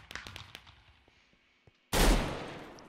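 Gunfire from the Minecraft Mineplex Counter Strike game mode: scattered, faint clicks and pops followed by one loud, close blast that rings out and slowly fades.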